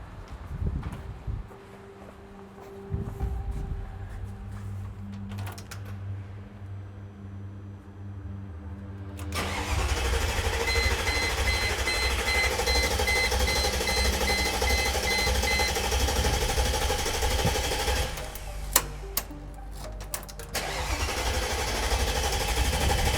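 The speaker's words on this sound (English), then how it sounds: "This baby should fire up now. This will be the first start in almost 5 years." A Mercedes G Wagon engine, unused for almost five years, cranks with a few labored turns and then catches near the middle, settling into a loud, steady rumbling idle with a brief revving blip later on.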